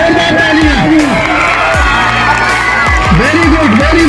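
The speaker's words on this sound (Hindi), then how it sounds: "तालियां बजाइए, जोरदार तालियां।" A children's crowd at a summer camp closing event run by a sports department in Satna cheers and shouts continuously, loud and dense beneath a prominent amplified voice.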